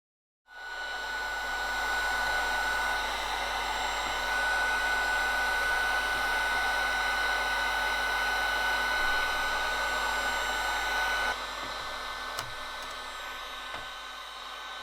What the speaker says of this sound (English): a job for the heat gun. I used mine on the lowest setting